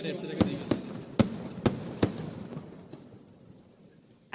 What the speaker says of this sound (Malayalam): തിരുവമ്പാടി വിഭാഗത്തിന്റെ വെടിക്കെട്ട് ആരംഭിച്ചിരിക്കുകയാണ്.